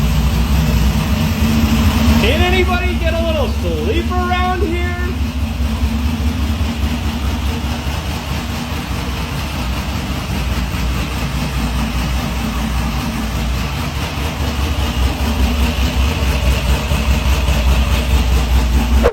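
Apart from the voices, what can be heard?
rebuilt car engine running in an apartment, exhaust out the window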